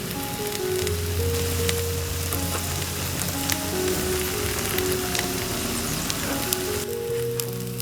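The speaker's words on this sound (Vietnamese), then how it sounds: "Chiên thêm khoảng 1-2 phút nữa cho tới khi mặt bên dưới chín vàng nhẹ là được nha." Eggs with okra frying in oil in a pan, a steady loud sizzle and crackle with occasional spatter pops, continuous throughout.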